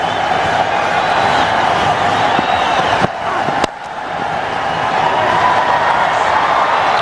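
A packed cricket stadium crowd roars and cheers during a one-day international between India and Australia, a broad, continuous wash of noise that dips briefly midway before swelling back up.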